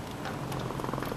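A cat purrs continuously and close up, a dense rumbling vibration inside a winter camping tent during snowfall at -15°C.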